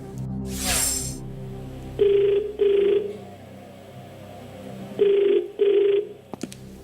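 A telephone ringing on the other end of a call: two double rings with an even pause between, heard through a line, faint hum beneath.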